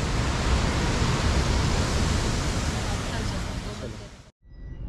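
Rushing water of the Rajpuri waterfall in the rain, a loud steady broadband roar that fills the scene, then cuts out abruptly near the end with a brief quieter tail.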